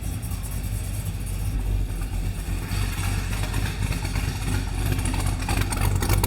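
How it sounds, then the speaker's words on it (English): A car with a choppy cam idles with its exhaust opened up, giving a deep, lumpy, uneven rumble. The engine burbles steadily and loudly throughout, with slight swells in volume and no voices. "Listen to that choppy cam."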